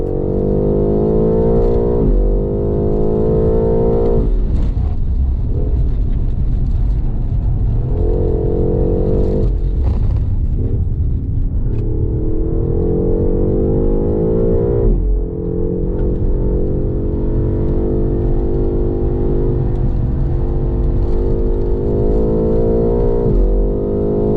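A 2024 BMW M8 Competition Coupe driving a lap, its engine droning loud and steady with repeated rising revs and sudden drops at gear changes, heard from inside the car for the whole stretch.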